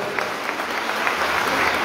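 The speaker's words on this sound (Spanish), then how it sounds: "También vamos a brindarle fuertes aplausos." People at a municipal assembly in San Juan Colorado, Oaxaca, applaud together, a short stretch of steady, fairly even clapping from a modest crowd.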